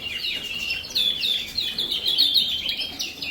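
Gloster canaries in their cages chirp in a bright, rapid series of high trilling calls, close and lively, overlapping one another across the whole stretch without any talking.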